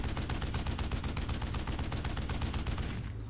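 Held-trigger automatic gunfire in the video game Hunting Fields of Jackals, an evenly spaced rapid stream of shots at a steady rhythm that stops right at the end.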